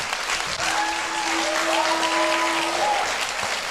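A church congregation claps hands together, a dense sustained wash of applause filling the room for several seconds, with a faint musical tone from an organ or keyboard sounding underneath.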